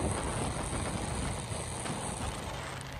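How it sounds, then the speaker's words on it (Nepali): Rain falls during a motorcycle ride, a steady dense hiss of drops that stays loud and even for the whole stretch, mixed with broad wind-like noise and no talking. "आम्बो कस्तो पानी पर्यो"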